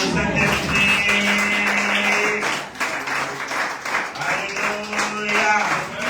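Church congregation at a Martinique worship service claps to acclaim the Holy Spirit, a dense, steady wash of applause running throughout, with singing or voices and a sustained tone mixed in.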